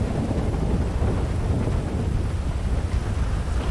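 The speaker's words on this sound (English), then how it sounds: "Ah, the storm's insane." A thunderstorm in GTA 5 roars loud and continuous, with heavy rain and rumbling thunder blending with gusty wind noise in a thick wash that never lets up.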